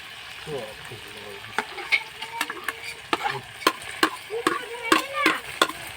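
Garlic, ginger, chili and timur paste stirred in a pan, with a spatula scraping and clicking irregularly over a low sizzle, the strokes growing sharper and denser toward the end.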